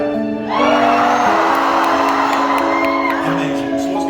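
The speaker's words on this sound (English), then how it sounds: "the last stage is rapture, so you whoop and cheer and just go mental" A live audience erupts into loud whooping, cheering and shouting, a sustained roar of many voices rising sharply after a brief lull and holding at full volume.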